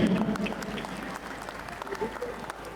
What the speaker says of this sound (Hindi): तो नईम साहब के लिए जो है ना भरपूर तालियां होनी चाहिए।